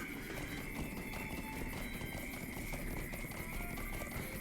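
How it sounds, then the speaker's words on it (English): Horse hooves clip-clop steadily in the video game Lord of the Rings Online (LOTRO) while the character rides. The quick, even rhythm runs loud and unbroken through a dense, continuous game soundscape. "bring the cowbell back to Philibert Bulger, riding our horse because it's a little bit faster"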